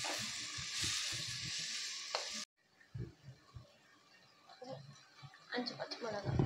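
Mint and tomato sauté in hot oil for prawn biryani, giving a loud, close sizzling hiss for about two seconds. The sizzle then cuts to quieter stirring and pan clatter.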